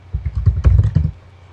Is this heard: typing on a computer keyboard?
yes